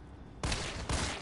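Two heavy gunshot bursts in Resident Evil 3, each loud and abrupt with a booming low thump, the second following about half a second after the first out of near quiet.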